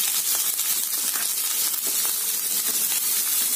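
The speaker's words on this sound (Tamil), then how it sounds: "வெங்காயம் வந்து நல்லா வதங்கணுங்க." Chopped onions frying in a pan with whole spices for chicken biryani give a steady bright sizzling hiss with faint crackles, continuous and fairly close, with no talking.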